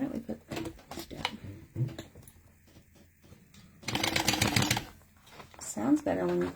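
A sewing machine runs in one short, fast stitching burst as its foot pedal is pressed while bag hardware is attached, with people talking closely before and after.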